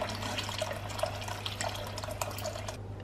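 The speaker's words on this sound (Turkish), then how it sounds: "Şimdi su ekleyeceğim arkadaşlar. Şöyle üzerine geçecek kadar su ekliyorum." Water streams steadily into a cooking pot on a home kitchen stove, a continuous splashing pour with a low background hum, no talking over it.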